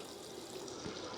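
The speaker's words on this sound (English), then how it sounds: "So now it's squeezing all the wine out of the grapes" Red Grenache wine flows steadily out of a water-filled bladder press as the grapes are squeezed, a continuous soft liquid rush heard close and alone.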